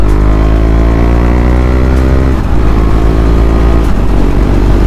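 A KTM Duke 390 motorcycle engine drones loudly up close, its pitch dropping sharply at one gear shift and again at another, the throttle held between changes.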